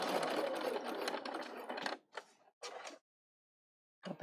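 A Bernina 770 sewing machine edge stitching runs in a close, steady mechanical whir, then breaks into a few short stop-start bursts separated by silence, with a final brief burst at the end.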